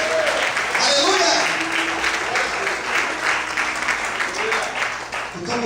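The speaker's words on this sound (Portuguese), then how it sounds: "Aplauda o Senhor bem forte" A church congregation claps loudly and continuously during a sermon, a full wash of applause with a preacher's voice speaking over it at the start.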